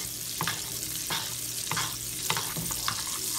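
Boneless duck breast searing in a hot pan, a close steady sizzle with rhythmic utensil taps and scrapes recurring about every half second, no voices.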